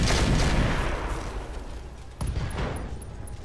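Mech weapons fire in the BattleTech game Roguetech, a loud rumbling barrage that fades and then hits again in a second blast, with faint beeps near the end.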